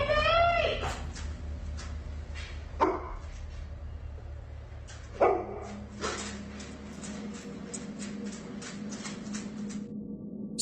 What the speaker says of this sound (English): dog begins to whimper before an object falls on its own